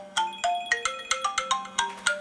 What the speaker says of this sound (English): Okay, so it says Kristen LaSalle, incoming call. My iPhone is also ringing